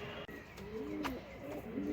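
Domestic pigeons cooing softly near a coop, a few low burbling coos rising and falling over a faint background hiss, with no talking.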